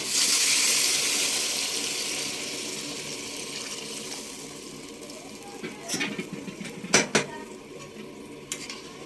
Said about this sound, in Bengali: আমি আগে থেকে গরম জল করে রেখেছিলাম মাছে দেবো বলে, সেটা আমি দিয়ে দিচ্ছি